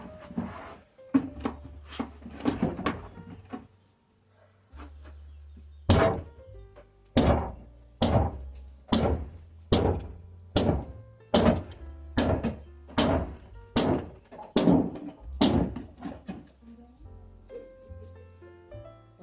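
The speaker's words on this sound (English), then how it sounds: "let's knock a few planks and see what happens." Old ceiling planks are knocked out during a house renovation in Portugal, a run of heavy, evenly spaced wooden thuds and bangs, loud and close, starting irregular and settling into a steady pounding rhythm.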